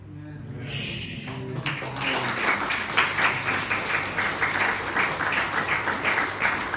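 A church congregation claps in unison, a steady rhythmic patter of many hands rising after a brief pause and continuing loudly, with a voice speaking over the start.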